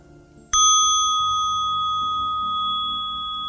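A temple bell at a Thai meditation retreat strikes once as the signal to begin, a sharp close ring with bright overtones that hangs and fades slowly over several seconds in a quiet hall.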